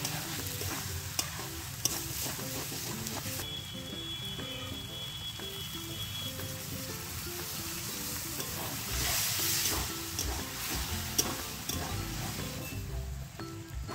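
Chicken skin and potato pieces sizzle steadily in a pan with spices, a constant frying hiss under repeated scraping stirs, with an irregular clink of a spatula and no talking.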